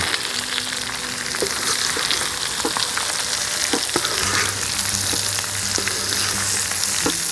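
Hunter-style potatoes with pork belly, hunter sausages and mushrooms sizzle in a pan while being stirred, giving a dense, continuous frying crackle with occasional scraping clicks from the utensil. No voices are heard.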